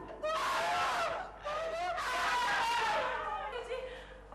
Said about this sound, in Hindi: दोबारा चीख रहे हैं